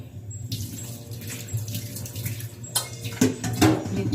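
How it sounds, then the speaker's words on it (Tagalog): Water streams weakly from a household tap, a steady low wash with a few brief splashes and clatter toward the end, fairly close and with no talking. "Medyo mahina na yung tubig."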